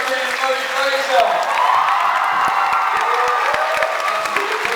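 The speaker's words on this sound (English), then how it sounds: "Let's have another round of applause for Charlie Green and Moray Fraser." Audience applause and cheering at a school stand-up comedy show, a steady crowd roar with clapping and whoops filling the room, continuous and fairly loud throughout.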